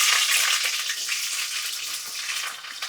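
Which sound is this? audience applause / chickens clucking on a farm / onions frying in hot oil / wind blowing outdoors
onions frying in hot oil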